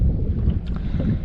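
Fishing boat idling across lake points on Kerr Lake, a steady low engine rumble with water and wind noise close to the microphone, continuous throughout.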